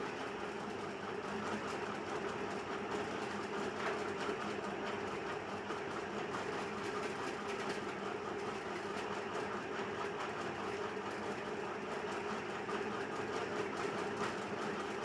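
A sewing machine runs steadily while stitching a double-layered blouse with lining, starting at a corner seam; the hum is continuous and moderately soft throughout, with no speech.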